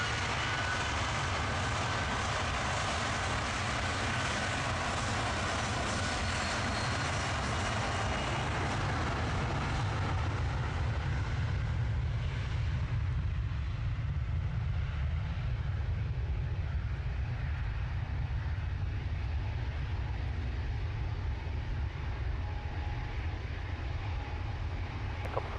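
A jet airliner takes off from runway 23 left at Manchester Airport, a loud, steady broadband engine roar that slowly eases and grows more distant as the aircraft climbs away, with no talk.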